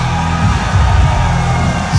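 Crowd at a live independent wrestling event, a No DQ match, roaring and cheering in a dense, loud, continuous wash of voices filling the venue.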